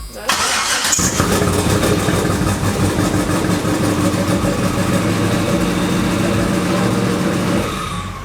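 A car engine with one side of the exhaust removed starts and settles into a loud, rough, steady rumble close by, then fades slightly at the end.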